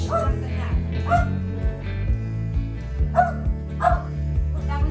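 Close indoor dog barking, several sharp woofs and yips in uneven clusters separated by brief pauses.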